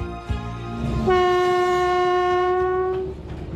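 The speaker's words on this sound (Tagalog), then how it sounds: "Ang iba ay nagtatakip ng kanilang mga tenga dahil napakaingay ng busina" A loud, sustained train horn blast lasting a couple of seconds over rumbling rail noise, close and prominent.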